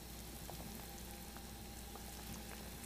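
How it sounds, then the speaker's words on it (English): A pork belly braise with star anise and eggs at a rolling boil, a constant dense bubbling and hiss with faint pops, steady and close throughout, with no talking. "so here we are at a rolling boil"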